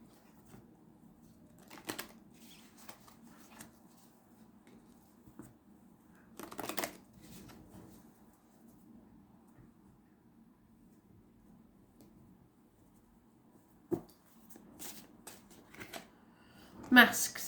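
A deck of cards is shuffled for a pick-a-deck card reading, in short riffling bursts separated by quiet stretches, close and fairly soft.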